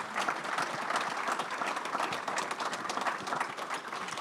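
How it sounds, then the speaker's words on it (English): Audience applause for panelists at an energy briefing fills the room, a dense, steady wash of many hands clapping at moderate distance with no talk over it. "We give them a round of applause."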